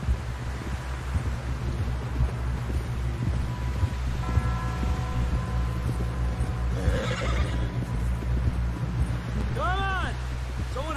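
Horse neighing and whinnying with faint clip-clop hooves in the Red Dead Redemption 2 video game, set among continuous low rumble, wind and ambient noise, with a clear whinny near the end.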